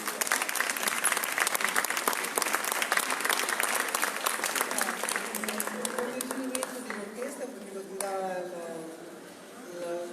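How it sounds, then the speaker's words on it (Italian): An outdoor concert audience in a town piazza applauds loudly for several seconds, then the clapping thins and dies away as a voice begins speaking. "Andiamo a fare un applauso."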